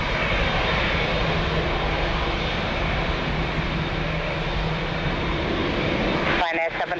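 An American Airlines airliner at Lisbon Airport, a loud steady engine roar filling the whole stretch, close and unbroken, with a voice speaking over it.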